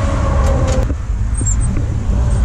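An old Studebaker pickup truck being driven and shifted through its short gears, its engine droning loud and close in the cab with a brief dip in drive as a gear change goes through.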